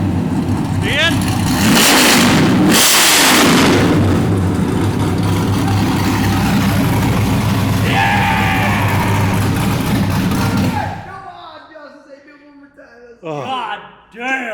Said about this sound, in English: It sounded good when it revved up.